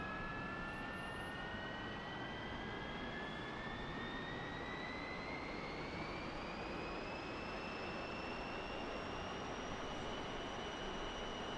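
A MiG-15bis jet engine in the DCS flight simulator held at about 8,000 RPM, a steady loud roaring whoosh with a high turbine whine that slowly climbs in pitch throughout.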